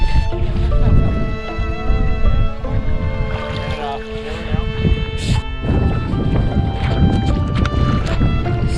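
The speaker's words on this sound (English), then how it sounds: "So windy, eh?" Strong wind with rain buffets the microphone with a loud, steady roar on a backcountry lake in Prince Albert National Park, while people talk close by over the gusts.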